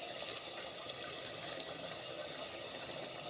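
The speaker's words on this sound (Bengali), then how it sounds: "আর এই আমি হালকা একটু কেওড়া জল দেবো" Kewra water poured into a pot of mutton korma, a steady close splashing trickle of liquid running for a few seconds with no talk.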